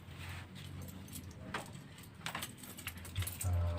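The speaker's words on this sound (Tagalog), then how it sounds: "Mga susi niyo po." Keys jingle in short, soft metallic bursts, quiet and close, over a low background rumble with faint noises around them.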